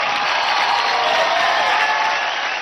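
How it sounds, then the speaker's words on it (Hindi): A dance competition audience applauds the dancer Manan, a dense, loud, continuous wash of clapping from a large crowd that holds steady throughout. "रॉकिंग जोरदार तालियां हो जाए मनन के लिए।"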